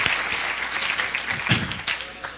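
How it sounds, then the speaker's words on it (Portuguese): A steady burst of applause from a group, continuous clapping filling the whole moment without pause. "Aplausos aí a Sebastião."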